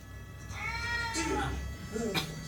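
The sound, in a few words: cat meowing in anime episode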